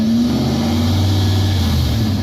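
A Nissan 240SX with a swapped 1UZ V8 engine driving in second gear, a steady loud interior engine drone with a low hum and a slight pitch drop, no talking.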